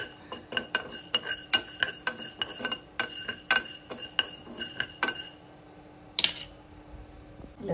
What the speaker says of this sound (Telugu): స్టవ్ మీద ప్యాన్ పెట్టి మనం మెంతులు 1 స్పూన్, ఎక్కువ వేయకూడదండి, దూరంగా వేయించుకోవాలి